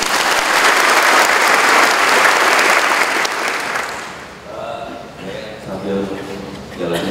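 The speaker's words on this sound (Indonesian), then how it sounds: "Tepuk tangan, teman-teman." Cadets at a Ministry of Law and Human Rights gathering applaud loudly as a dense, sustained burst for about three seconds, then it thins out into scattered claps as voices and room chatter come through underneath.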